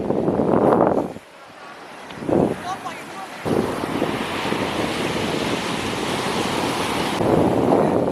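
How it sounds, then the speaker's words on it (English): Waves wash onto Kizhupalli beach in Kerala with a broad, steady surf roar and strong wind buffeting the microphone. A voice speaks briefly near the start. "Presenting to you Kizupalli beach."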